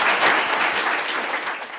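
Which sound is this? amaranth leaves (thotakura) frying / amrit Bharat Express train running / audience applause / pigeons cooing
audience applause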